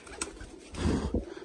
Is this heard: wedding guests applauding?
no